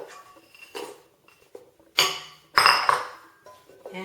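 A spoon mixing chopped Oreo into vegan ice cream in a bowl, producing sparse, irregular clinks and scrapes against the dish with short pauses between them.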